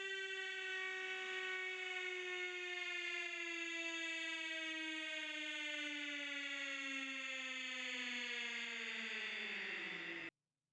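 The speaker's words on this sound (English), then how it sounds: "I'm glad I still have that home run siren of a slowed down Waluigi" A slowed-down Waluigi voice serves as a home run siren sound effect. It is one long, loud, buzzy wail whose pitch slides steadily downward for about ten seconds before cutting off abruptly.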